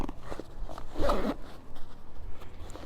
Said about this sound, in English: The bottom of it has this pouch that zips away if you're not using that bottom extension.